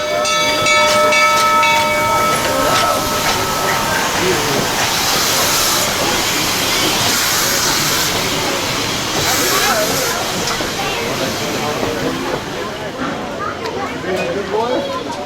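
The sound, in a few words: 1880 steam train passing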